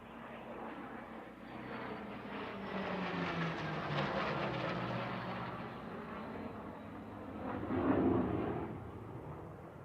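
A military aircraft makes a flat pass at the SUN 'n FUN airshow, its engine roar swelling from a distant drone to a louder broad rush as it crosses, then easing away, with no talk over it.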